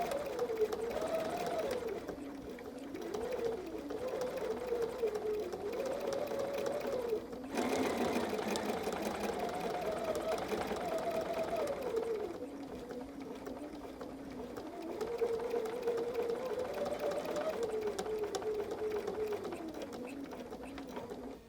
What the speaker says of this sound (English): all I'm going to do is I'm going to sew here all the way around with 1/8 of an inch